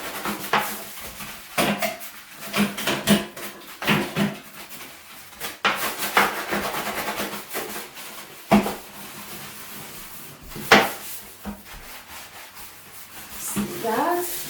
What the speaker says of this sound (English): And then we just start scrubbing.